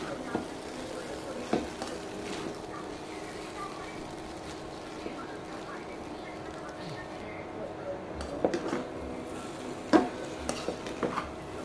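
An egg sizzles steadily in a frying pan on a home stove, a soft continuous crackle with occasional scrapes and clinks of a utensil against the pan, nearby and fairly quiet.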